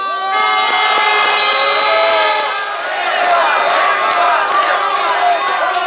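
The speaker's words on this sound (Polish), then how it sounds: "cieszę się, że Państwo krzyczycie Władek, Władek" A large crowd at a Polish rally marking the 35th anniversary of martial law loudly chants a man's name in a steady, sustained rhythm, with many voices blending together throughout.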